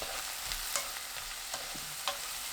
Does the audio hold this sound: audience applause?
no